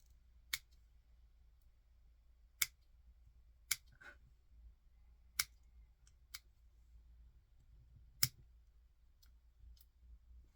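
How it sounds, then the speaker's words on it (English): Fine scissors trimming the end of a homemade hook-and-loop dubbing brush for fly tying, producing about eight sharp, isolated snips spaced irregularly over a quiet background. "I'm going to get some finer scissors and see if I can get it to look a bit better on the end."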